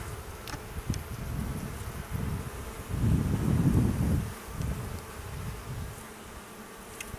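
Honey bees buzz close and continuously during a beekeeping hive inspection as frames of comb are lifted, the drone swelling louder for a moment midway, with small clicks of handling and no voices.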